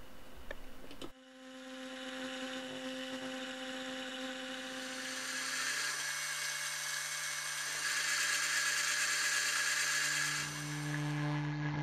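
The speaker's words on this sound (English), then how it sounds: "it was back to the milling machine to set the centre hole and to cut the slot" Milling machine cutting a slot with a 6mm 4-flute cutter, starting with a click and then a steady, loud whirring drone with a high tonal whine that builds gradually and holds to the end.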